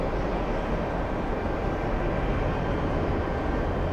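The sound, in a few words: UPS cargo airplane flying overhead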